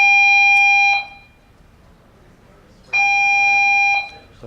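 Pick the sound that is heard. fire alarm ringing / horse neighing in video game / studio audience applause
fire alarm ringing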